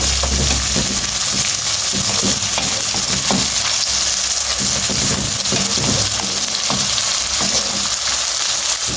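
Tomatoes sizzle and fry steadily in a hot pan while turnip and pea curry is cooked, a constant loud hiss with small stirring scrapes and pops throughout and no talking.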